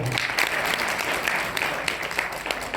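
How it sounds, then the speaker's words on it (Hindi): Seminar audience at a national naturopathy event in Delhi applauds steadily, a dense, even burst of clapping from many hands that fills the room for the full few seconds without voices. "ताली बजाइए।"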